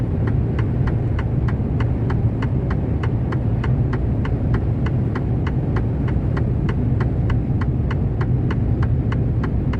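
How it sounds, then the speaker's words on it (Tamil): Inside a car overtaking a slower vehicle: a steady, even rumble of engine and road noise under a regular, rapid ticking like a turn signal, constant loudness, no speech. "இப்போ நான் ஓவர்டேக் பண்ண போகிறேன்"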